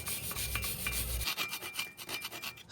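Corrosion being scrubbed off brake parts on a 5th-generation Ram 2500 Cummins pickup, a close, rough rasping scrub with a heavier low rub in the first half, then lighter, uneven strokes.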